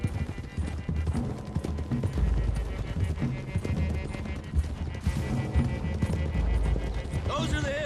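Horses galloping in a video game, a rapid run of hoof clip-clops with an occasional whinny under a rider's voice, with music and game effects mixed in throughout.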